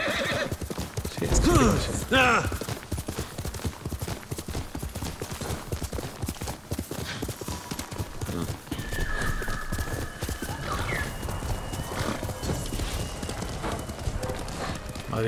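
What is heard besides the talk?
horse galloping and neighing, video game Ghost of Tsushima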